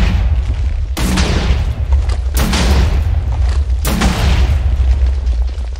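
A tactical shotgun fires in modded Minecraft, with three loud booming blasts spaced about a second and a half apart over a steady low rumble of game background.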